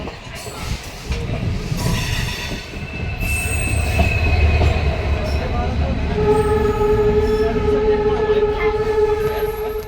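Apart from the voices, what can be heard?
train running after leaving Howrah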